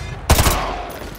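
A single loud, close gunshot in Call of Duty: Modern Warfare 2 Remastered, fired at a fleeing target's leg in an alley, with a sharp crack and a short rumbling tail that fades into background ambience.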